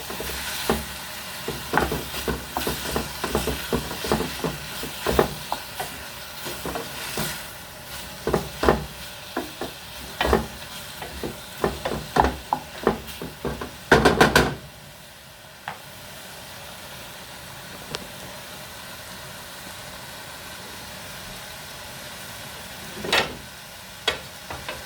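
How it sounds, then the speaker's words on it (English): Ginger and pineapple pieces are stirred in a sizzling pan, with a run of scraping, clattering utensil strokes over steady frying, then the stirring stops and the sizzle continues quietly apart from one late scrape. "Give that a good stir."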